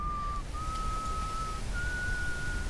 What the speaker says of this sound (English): I don't know who's whistling though.